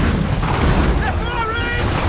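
Soldiers fire in Assassin's Creed 3, a heavy booming blast of gunfire with rumbling low end, loud and close, while a voice shouts over it.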